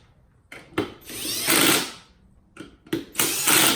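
A power tool tightens the beadlock ring bolts on a UTV wheel in short, loud, close whirring bursts with brief pauses between them.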